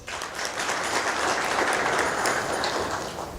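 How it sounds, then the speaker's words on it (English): Audience applause at a presentation, an even sustained burst of many hands clapping, moderately loud and steady for a few seconds. "Please give another round of applause."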